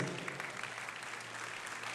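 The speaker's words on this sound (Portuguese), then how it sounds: "Fiquem de pé aplaudindo ao Senhor Jesus" A church congregation stands and applauds, a continuous, dense wash of clapping that sounds distant and faint with a low hum beneath it.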